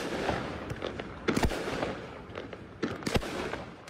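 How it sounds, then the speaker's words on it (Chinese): Low-altitude fireworks and firecrackers are launched on a riverside park basketball court. Several sharp bangs and crackling bursts come in two clusters over crackly background noise. "低空烟火疯狂发射"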